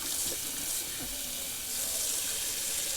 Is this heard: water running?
yes